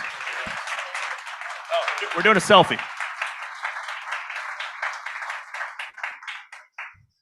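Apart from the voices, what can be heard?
applause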